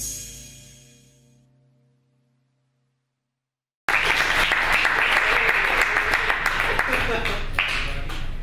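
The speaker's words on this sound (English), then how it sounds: "can we get another round of applause for that?" Audience applause at a TEDx salon event, loud and dense from a full crowd, bursting in after a fading tone and a few seconds of silence, then sustained steady clapping to the end.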